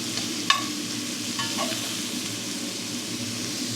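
Peppers fry with caramelized onion in a pan, giving a steady close sizzle with a sharp clink of a utensil near the start and a few light stirring scrapes.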